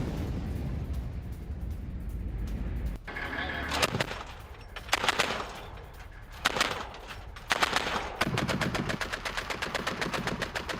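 Gunfire during a sudden attack on Syrian army positions, heard as repeated bursts of rapid shots and heavier reports, echoing outdoors at moderate distance with a brief talking voice near the start.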